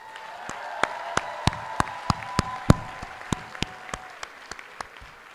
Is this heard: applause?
yes